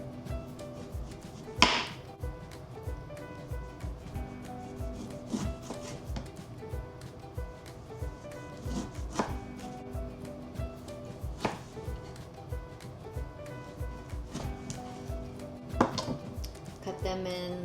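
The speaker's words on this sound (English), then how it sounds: "Okay, next let's cut up our limes." A knife chops limes on a cutting board in a home kitchen, sharp repeated knocks in an uneven rhythm close by, mixed with soft clinks of dishes and utensils.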